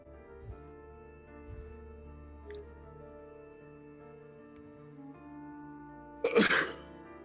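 One sharp sneeze bursts out near the end, loud and brief against a quiet background of low hum during a tabletop role-playing session.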